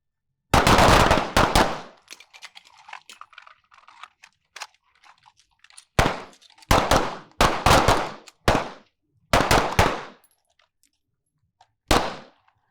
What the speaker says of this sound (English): pretend your arm is completely inoperative and just shoot with one arm